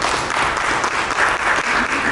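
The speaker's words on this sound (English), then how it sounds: "Let's give him a round of applause for that." Dense audience applause at a summit on sustaining historically Black colleges and universities, loud and steady throughout the short stretch with no talk over it.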